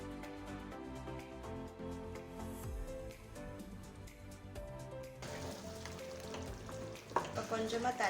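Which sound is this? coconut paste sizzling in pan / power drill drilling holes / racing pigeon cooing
coconut paste sizzling in pan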